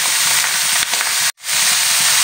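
Small fish sizzle loudly in very hot mustard oil in a kadai, a dense, steady crackling roar up close that cuts out briefly for an instant before resuming.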